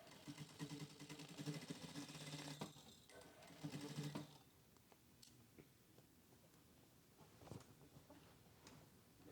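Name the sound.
sewing machine stitching black fabric crotch gusset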